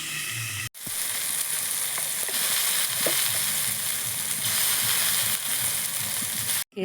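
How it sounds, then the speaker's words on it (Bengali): Sea crab sour curry made with tamarind bubbles and sizzles in a pot, a steady close crackle with soft popping bursts, briefly cut by two short silent gaps. "কাঁকড়ার টক একদম টক পক করে ফুটছে"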